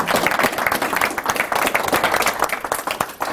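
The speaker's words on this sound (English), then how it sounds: "another round of applause for Graham" Lecture audience clapping for a speaker after a session on Augustine's City of God: lively, close applause with distinct individual claps throughout.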